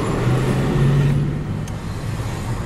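A BMW Mini-E electric car slowing under regenerative braking, heard from inside as a steady low road rumble with a faint rising whine that fades as the car decelerates, no voices.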